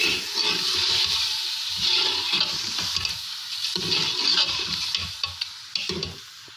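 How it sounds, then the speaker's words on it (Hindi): Marinated mutton sizzles and crackles in a hot pan while a utensil stirs and scrapes through it in irregular strokes. "इसको अच्छे से मिक्स कर देंगे।"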